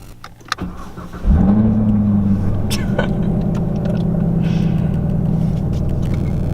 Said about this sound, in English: put your foot on the brake and start the car.